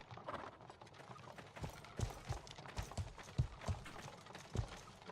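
Horse hooves clip-clop on hard ground near the south gate, a steady walking rhythm of distinct thuds over faint background noise.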